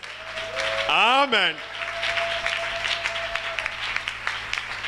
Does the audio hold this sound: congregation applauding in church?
yes